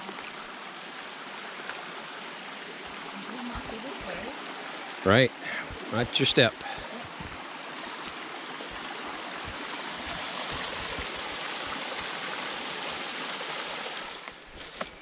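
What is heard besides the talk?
small stream flowing over rocks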